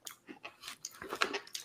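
Honey pretzels crunched while eating, a run of close, sharp bites and chewing crackles in irregular rhythm.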